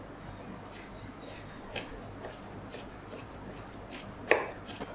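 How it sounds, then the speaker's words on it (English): A knife julienning vegetables on a cutting board for a Thai Panang chicken curry garnish, with a series of light, scattered taps and slices and one sharper chop near the end, quiet over a low kitchen background. "I will julienne it by take the middle part out. Then we're gonna roll it."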